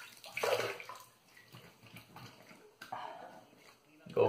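A shaving brush is rinsed under a running tap, with irregular splashing and water bursts, fairly quiet and close, with a voice talking over it.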